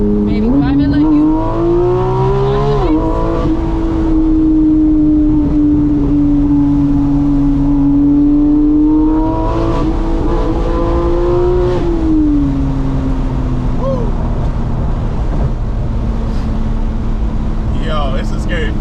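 A Porsche 911 GT3 RS engine revs and pulls as the car drives, its rising and falling tone loud and steady throughout, with people talking inside the cabin over it.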